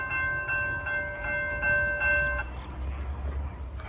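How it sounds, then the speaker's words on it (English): A train approaching on tracks near a high trestle above a city, with a steady ringing crossing bell chiming rhythmically for a couple of seconds, then a low rumbling roar building underneath after the bell stops. "Here comes the train."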